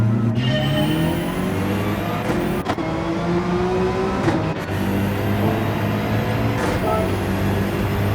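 A BMW M6 GT3 race car engine drones loudly and continuously at a race start on Deep Forest Raceway Reverse in Gran Turismo 7, the pitch rising and dropping through repeated gear changes as it accelerates, with no talk.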